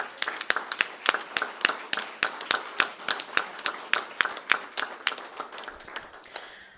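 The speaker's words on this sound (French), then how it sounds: "Oui, vous pouvez les applaudir si vous le souhaitez." Clapping at the opening of a council session, led by sharp, evenly spaced claps close by that keep a steady rhythm over softer scattered applause in a quiet room.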